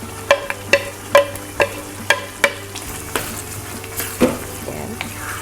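Hotdog frying in a pan for cheesy pork menudo, a soft sizzle under a series of sharp metallic scrapes and clinks from stirring, about eight in a loose rhythm, close by.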